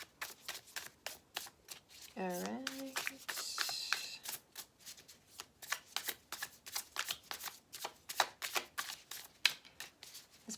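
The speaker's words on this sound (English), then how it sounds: "I'm having issues shuffling today" Tarot cards are shuffled by hand in a steady run of quick papery riffles and flicks, near and fairly quiet, broken by a short spoken remark.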